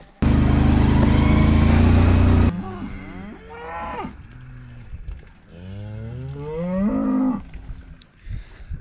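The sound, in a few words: cows and calves mooing on a farm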